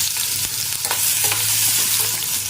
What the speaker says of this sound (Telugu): బాగా వేగాలి ముల్లంగి ఘాటుగా ఉంటుందండి